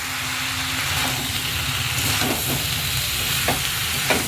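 Pumpkin, ridge gourd and eggplant being stirred into hot oil in a frying pan, giving a steady close sizzle with intermittent scraping clinks of a spatula against the pan.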